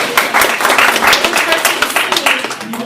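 Audience clapping at a talk on trans activism and Stonewall, a dense burst of many hands close by that continues steadily for a few seconds.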